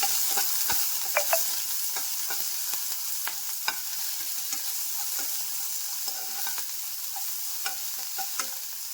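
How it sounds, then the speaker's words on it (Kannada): Long-sliced onion and green chillies frying in a pan for masala toast, a continuous crackling sizzle up close with scattered light taps and scrapes of a stirring spoon. "ಉದ್ದುದ್ದ ಹೆಚ್ಕೊಂಡಿರೋ ಈರುಳ್ಳಿ ಹಾಕ್ಕೋತಾ ಇದ್ದೀನಿ ಇದಕ್ಕೆ ಹಸಿಮೆಣಸಿನ್ಕಾಯಿ ಹಾಕ್ಕೋತಾ ಇದ್ದೀನಿ ಇದೆಲ್ಲ ಹುರ್ಕೋಬೇಕು"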